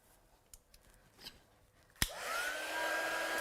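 Near the end a heat tool switches on with a sharp click and settles into a loud, steady blowing whoosh. It is setting ink on stamped cardstock after a few quiet handling taps, and no one speaks.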